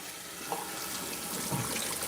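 Hot water runs steadily from a kitchen tap while dishes are washed by hand, a continuous splashing stream at close range, moderately quiet with small clinks of dishes.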